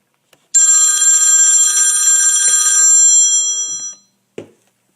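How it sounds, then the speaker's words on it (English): A phone rings loudly and steadily for about three and a half seconds in a single sustained burst of bright electronic tones, then cuts off, followed by a brief click. "sorry, my phone rang"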